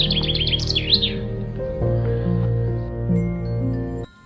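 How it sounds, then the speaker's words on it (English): Birdsong at the Englethwaite Hall caravan and motorhome site, a quick run of bright chirps and warbles in the first second, followed by steady sustained musical tones that continue to the end. "We loved listening to the sound of the birdsong during our stay here at Englethwaite."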